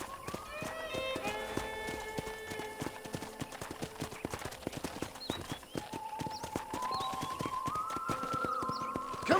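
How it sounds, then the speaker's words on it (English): Horse hooves in Red Dead Redemption clip-clop in a fast, steady galloping rhythm, loud and close, with tonal music and speech over the top. "let's see if you can still ride a horse"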